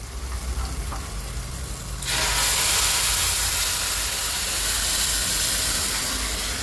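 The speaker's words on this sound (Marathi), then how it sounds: "त्यामध्ये मी बघा हे उकळलेलं पाणी टाकत आहे." Boiled water poured into hot oil spiced with red chilli powder and homemade masala erupts into a loud, steady hiss of sizzling and steam that sets in abruptly and holds to the end.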